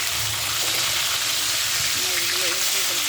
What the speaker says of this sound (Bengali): আর এই পাশে আমার মাছটা ভাজা হচ্ছে।